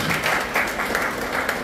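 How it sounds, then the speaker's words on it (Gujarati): An audience claps steadily at a school award ceremony, a dense, even patter of many hands filling the whole stretch with no talking. "આપણે પુષ્કળ તાળીઓ પાડીશું."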